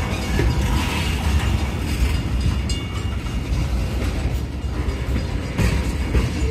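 A long freight train hauled by Canadian Pacific AC4400CWM locomotives rolls past close by, with a steady loud rumble and rhythmic wheel clatter and creaks on the rails, without talk.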